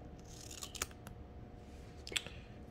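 Scissors cut a small piece of hair system adhesive tape. Two soft, crisp snips sound about a second apart against a quiet room background.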